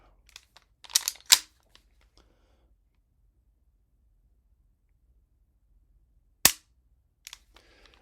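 Pistol trigger clicks during dry fire practice: a few sharp, close dry snaps, a cluster of two or three near the start and one more several seconds later, separated by near silence.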